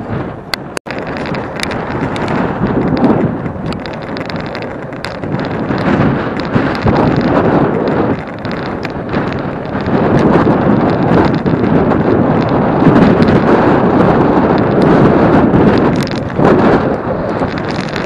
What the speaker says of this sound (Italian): Vento al traverso, però non disturba.